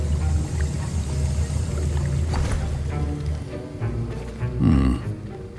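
Bubbling, sloshing liquid stirred in a cauldron while brewing a potion in Hogwarts Legacy, a steady churning wash with low gurgles and one louder swirl near the end, no voices.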